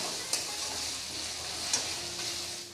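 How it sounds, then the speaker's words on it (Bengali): Ginger and garlic paste fries in a pan with a soft, steady sizzle, broken by a couple of faint clicks from stirring. "আদা রসুনের গন্ধটা যতক্ষণ না যাচ্ছে ততক্ষণ আমি ভেজে নেব।"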